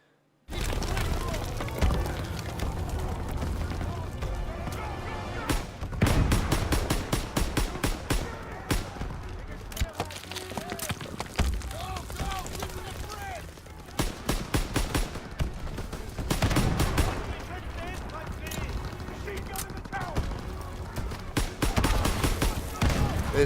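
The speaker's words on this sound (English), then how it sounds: "There's loads of machine guns in the tower." Heavy machine gun fire in Call of Duty WW2 during a World War II battle, rapid rattling bursts that come and go over a continuous roar of combat, with loud nearby volleys and distant shots throughout.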